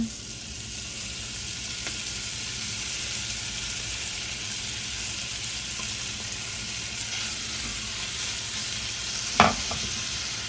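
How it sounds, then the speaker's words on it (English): Steak sizzles steadily in a pan of melted butter, a continuous close hiss with a few faint pops and one sharper crackle near the end. "To this, I'm going to add my steak so that it can start to cook."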